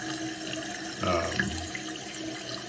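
A toilet tank refills with water after repair, a steady close rush that swells briefly, then continues at an even level.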